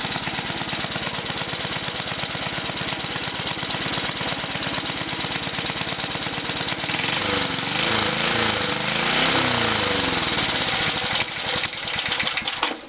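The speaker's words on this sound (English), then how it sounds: "So here I have the 1966 Briggs push mower running." A 1966 Briggs & Stratton push lawn mower engine runs steadily and loudly up close for the whole stretch, its rapid firing rhythm shifting and surging in pitch partway through.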